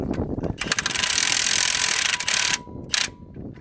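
A ratchet tightens bolts on a Jeep Grand Cherokee control arm, with rapid clicking pawl strokes building into a dense close-up rattle, then a brief pause and one more short burst.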